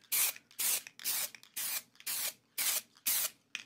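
Seven quick, rhythmic blasts of spray paint land on an art journal page, each a crisp close-up hiss with short pauses between.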